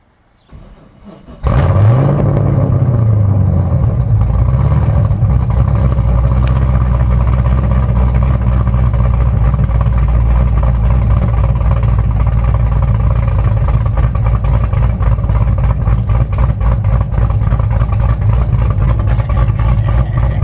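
A 2011 Chevrolet Camaro SS with a built engine fires up abruptly from near silence and settles into a loud, steady, rumbling idle that continues close by for the rest of the clip.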